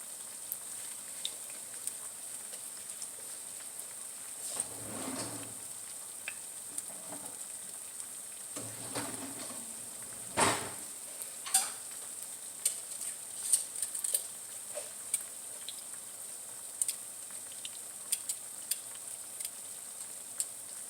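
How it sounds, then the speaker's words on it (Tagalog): Bananas frying in oil for Filipino banana cue, a steady high hissing sizzle with scattered pops and crackles, plus a few soft stirring or shifting sounds, close and continuous. "Ipiprito natin yung saging natin."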